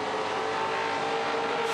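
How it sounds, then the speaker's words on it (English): Onboard V8 touring race car at high speed on a circuit, its engine a loud sustained roar with steady pitch, no voices over it. "shifting through to fourth gear"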